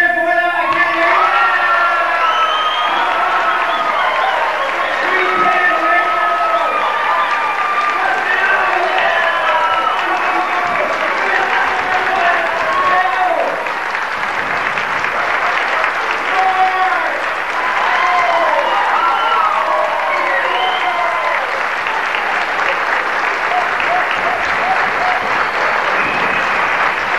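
A banquet audience at a YMCA recognition event applauds loudly and continuously, with cheers, whoops and shouted voices mixed into the dense clapping for the whole stretch.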